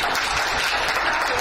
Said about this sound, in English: You can clap for that if you want to.